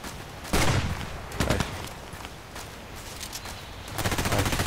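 Sig Sauer MPX submachine gun firing in the game Contract Wars: several short, rapid automatic bursts separated by brief pauses, crisp and fairly loud against a quiet background.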